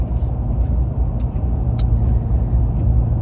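A truck rolls through traffic on I-65 near Nashville, its engine and tire rumble forming a loud, continuous low drone from inside the cab, with a few faint hisses and clicks.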